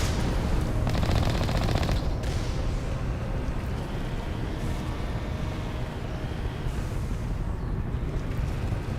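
Sustained turret gunfire in the Mass Effect video game, a dense continuous rattle of rapid shots that holds steady at high loudness for the whole stretch, with no talk over it.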